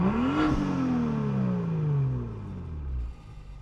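BMW M2 F87 with M Performance exhaust in Comfort mode, valves closed, revs up in a smooth rising engine note then eases off as the pitch falls, steady and fairly close with no talk.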